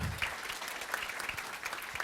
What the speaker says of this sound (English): Round of applause for our trombones.